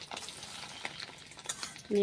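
Soft, steady sizzling of fish roe frying in a pan, quiet and continuous with faint crackles.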